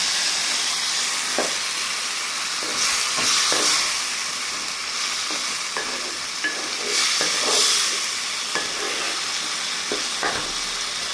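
Chicken bones tossed in spiced oil fry with a steady broadband sizzle, punctuated by irregular scraping stirs of a spatula through the pan, close and continuous with no voices.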